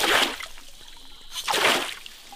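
Creek water pours out of a natural-energy water pump in two hissing, splashing surges with a quieter trickle between them.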